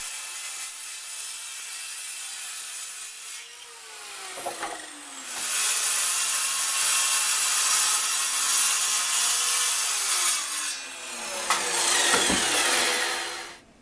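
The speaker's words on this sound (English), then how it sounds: "I cut the sides out of 18mm plywood." Hand or power sawing through 18mm plywood for the sides of a box fan: a long, loud, rasping cut with rising and falling pitch, a brief pause, then a second extended cut, close up.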